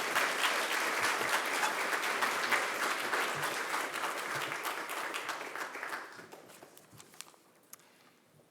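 Symposium audience applauding, a dense sustained burst of clapping that thins out and fades over the last couple of seconds to a few scattered claps.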